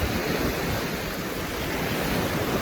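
Sea waves wash steadily against the shore in Odesa on a drizzly grey day, a dense continuous roar of surf mixed with wind noise on the microphone and no voices.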